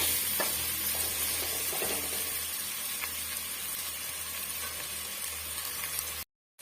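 Tomatoes and onions sautéing for chicken gravy, a continuous dense sizzle and hiss with faint stirring knocks, steady and close throughout before cutting off abruptly at the end.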